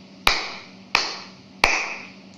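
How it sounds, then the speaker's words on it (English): Three sharp single hand claps, evenly spaced about two-thirds of a second apart, each followed by a long reverberant tail in an echoey room, close and loud with no talking. "let me also clap my hand"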